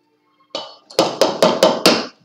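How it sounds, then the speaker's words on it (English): Egg cracked against a hard edge for crepe batter, a soft initial tap followed by five sharp, evenly spaced knocks in quick succession, close and clear with nothing else around. "break your egg"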